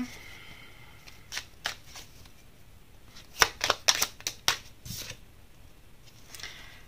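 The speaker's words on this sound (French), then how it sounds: "Je vais sortir une autre carte." Tarot cards are handled and drawn from the deck during a reading. There are soft, close papery flicks and snaps, a cluster of quick card slides in the middle, and no talk.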